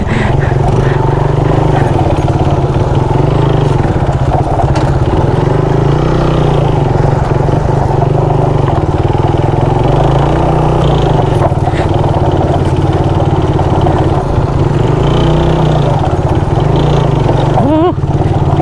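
A motorcycle engine runs steadily and loudly throughout while being ridden over a rough, unpaved road near Mayantoc, Tarlac, with a continuous low rumble and jolting fluctuations.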